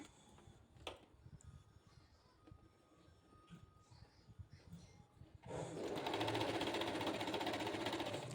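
A sewing machine stitches a child's cotton frock, running steadily and loudly for the last few seconds after a quieter stretch of handling and faint clicks.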